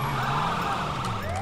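Ambulance siren in the video game Grand Theft Auto V, a loud wailing tone sweeping steadily over the rumble of traffic and engines, close by and continuous.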